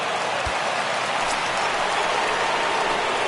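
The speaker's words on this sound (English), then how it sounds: "There is rain in the area" Steady rain hiss from a ballpark in the baseball video game MLB The Show 19, a dense, even wash of drops holding constant and fairly loud throughout, with a faint low thump early on and no talk over it.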